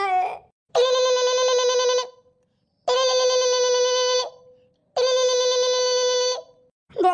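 A telephone rings in three long, loud harmonic bursts with short gaps between them, close and clear, with no talking over it.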